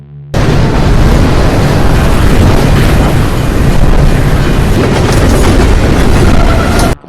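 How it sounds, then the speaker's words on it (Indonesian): A loud train, burning along its carriages, rumbles past close by, a dense continuous roar with rattling and clanking that holds steady for several seconds before cutting off. "Namun kereta lewat dalam keadaan terbakar di sepanjang gerbongnya."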